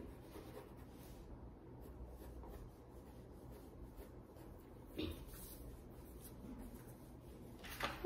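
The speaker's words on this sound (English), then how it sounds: "Let me erase that." Eraser rubbing across a paper drawing of a submarine, a soft steady scratchy friction running throughout at close range, with a couple of brief louder scuffs near the middle and at the end.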